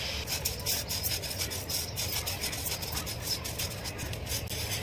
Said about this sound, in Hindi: दाल हमारी रोस्ट हो गई है, आप देखिए इसमें आवाज आ रही है ना, तो ऐसे ही आवाज आएगी